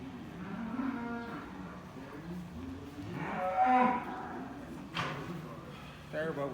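Cattle moo in low, drawn-out calls, several overlapping over a few seconds, close by and moderately loud, with some clattering near the end, as the cows are given injections.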